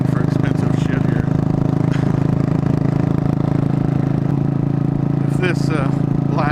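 A Buell Blast motorcycle engine drones steadily and loudly throughout while being ridden, a constant low hum with a few brief clattering sounds and faint chirps near the end.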